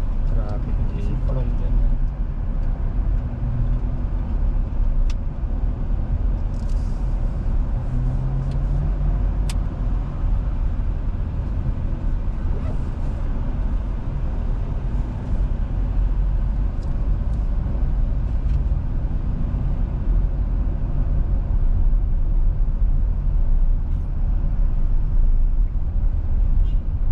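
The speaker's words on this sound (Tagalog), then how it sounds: "Traffic dito." Steady road traffic rumble heard from inside a moving 2025 Kia Pegas in city traffic, a continuous low engine and tyre drone throughout, with people talking over it.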